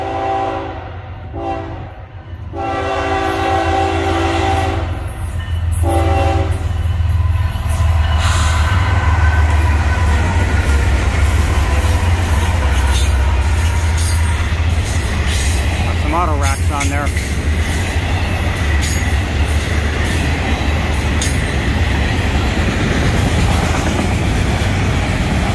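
Florida East Coast Railway train FEC 105 passes close and loud, a steady heavy rumble of wheels and engine throughout, with a drawn-out horn blast and brief talk at the start.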